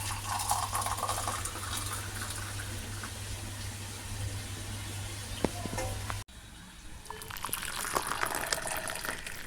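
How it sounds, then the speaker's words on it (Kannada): Freshly boiled black coffee decoction sweetened with jaggery is strained through a filter into a glass, a steady trickling and liquid hiss, with a brief break partway before the pour resumes, close and fairly quiet. "ಈಗ ಒಂದು ಗ್ಲಾಸಿಗೆ ಫಿಲ್ಟ್ರ್ ಮಾಡ್ಕೊತಾ ಇದ್ದೀನಿ"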